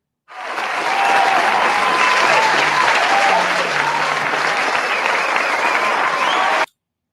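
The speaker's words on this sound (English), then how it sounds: "We don't cut the clapping for me early." Studio audience at a daytime talk show bursts into sustained clapping and cheering, loud and dense from start to finish, then cuts off abruptly.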